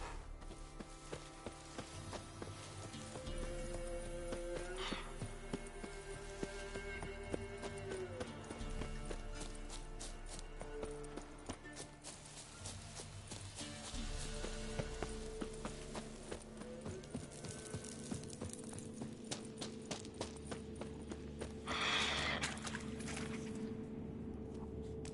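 The horse Roach galloping in The Witcher 3, a steady, continuous drum of hoofbeats at moderate loudness over a game soundscape, with a faint voice briefly in the mix.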